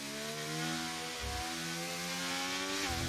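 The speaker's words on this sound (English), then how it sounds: "The cars are a bit loud." A loud, droning Formula 1 race-car engine in a racing video game whines at high revs around Silverstone, dipping briefly twice as the gears shift, with no voices.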